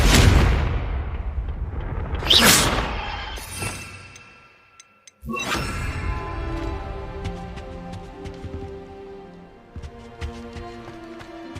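A Confringo blast spell goes off in the Hogwarts Legacy video game, a loud booming burst near the start, followed by a sharp second impact and a sudden crash with fading rumble and clatter.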